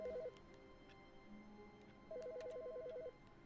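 A telephone rings in The Stanley Parable, a warbling electronic trill heard as a brief tail at the start and then one full ring burst of about a second, fairly quiet against a faint room hum.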